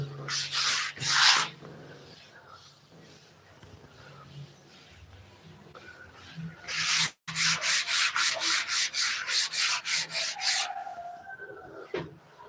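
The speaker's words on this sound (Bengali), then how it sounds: "এইভাবে আপনারা ঘষে নিতে পারেন" Dried wall putty being hand sanded, heard as close, harsh rasping strokes: a few scattered passes, then a quick rhythmic run of about a dozen even rubs, alone with no talk.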